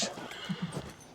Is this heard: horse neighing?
yes